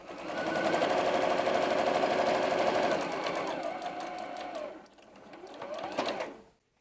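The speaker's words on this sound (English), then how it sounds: "now we're going to sew the second piece on" A sewing machine stitches quilt pieces for a pies and points block in a steady, loud mechanical whir, running for about three seconds, easing off, then a shorter final burst before stopping.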